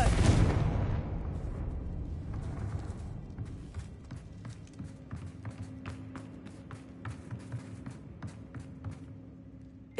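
A Confringo fire-blast spell explodes in the Hogwarts Legacy video game, opening with a loud, broad blast that decays into a rumbling tail, followed by scattered light taps and footstep-like clicks.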